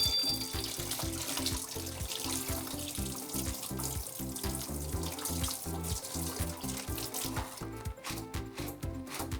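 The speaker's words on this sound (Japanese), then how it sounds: "なのでこれを一度洗い流します" Tap water runs steadily into a sink while mud is rinsed from the cut roots of komatsuna, a continuous splashing flow with slight shifts as the greens are moved under the stream.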